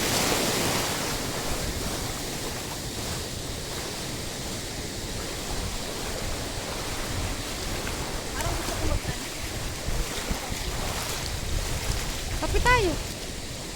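Large waves breaking and surging on a beach shore in Quezon province, a steady loud roar of surf with wind buffeting, a few swells rising near the end.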